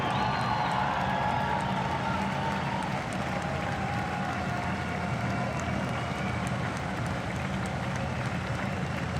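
A basketball arena crowd applauds and cheers as a senior guard is introduced at a Utah Valley men's game, producing steady, dense clapping with scattered whoops throughout.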